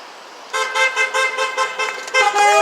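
Busy car traffic on a Chinatown street in Boston, with a run of short repeated horn toots from vehicles, loud and close, ending in a longer honk blast.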